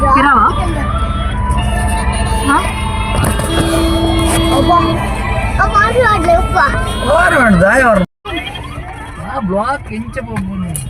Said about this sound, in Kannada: ಇದು ಆಂಬುಲೆನ್ಸ್ ಅದ ಸೌಂಡ್